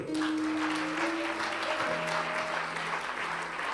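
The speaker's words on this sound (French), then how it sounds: "Acclamons la parole." A church congregation applauds during a sermon, a dense, continuous burst of clapping from many people that fills the room for several seconds without speech.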